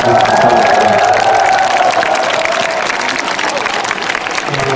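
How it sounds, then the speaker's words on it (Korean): An outdoor crowd at a concert in Seoul Plaza applauds and cheers, a dense wash of clapping that fades slightly toward the end. "다 같이 감사의 박수를 보내겠습니다"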